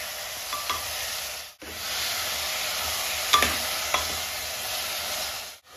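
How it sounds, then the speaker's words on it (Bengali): Thinly sliced onions drop into hot oil over a full flame, giving a loud, continuous close sizzle with a few short clinks and scrapes of a spatula as they are stirred. "তেল গরম হয়ে গেছে, আমি এই তেলের মধ্যে এবার পেঁয়াজটা ছেড়ে দিচ্ছি"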